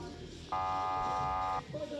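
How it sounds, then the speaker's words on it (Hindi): An electronic buzzer sounds one steady, bright tone for about a second at a Big Cricket League match between MP Tigers and UP Brij Stars, over the murmur of the crowd and commentary. "और बजर अलर्ट कर दिया है यहां पर"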